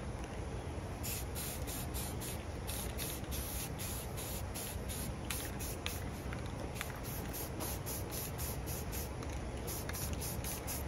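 Rattle can spray paint applied to faded plastic parts, a continuous close hiss with short rhythmic bursts as the nozzle is pressed repeatedly, alone without talk.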